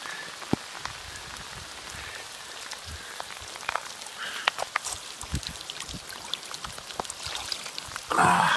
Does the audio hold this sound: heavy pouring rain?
yes